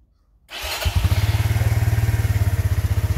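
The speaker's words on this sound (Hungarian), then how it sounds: "Így indul egy Suzuki." An old Suzuki motorcycle, left standing for months, cranks briefly after a moment of silence and catches, settling into a loud, close, rapidly pulsing idle with a mechanical clatter and no voices.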